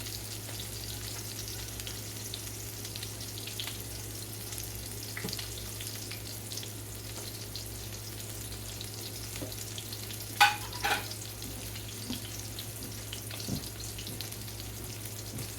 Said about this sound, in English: I'm cooking it in the pan while I clean this up